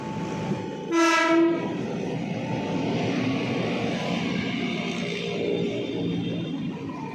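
An Indonesian commuter train passes Matraman station near Jatinegara in Jakarta, giving one short, loud horn blast before a continuous rumble of wheels and carriages rolling by close at hand.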